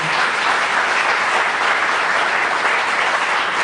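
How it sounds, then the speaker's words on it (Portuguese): An evangelical church congregation applauds in praise, a thick, even wash of clapping that holds steady and loud throughout, with no individual voices standing out. "Então aplauda o Senhor."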